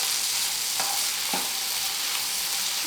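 Ground spices such as Kashmiri red chilli, cumin, turmeric and coriander fry in a pan for butter chicken, making a constant loud sizzle with a couple of soft stirring scrapes, no speech.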